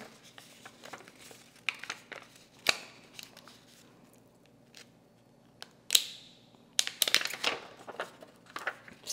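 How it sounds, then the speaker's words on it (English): Scissors cut out a paper stencil in scattered close snips and crinkles of paper, with short quiet gaps between bursts and a busier flurry of cuts toward the end. "And I stick my scissors right in the middle of that pinch, and then I start to cut."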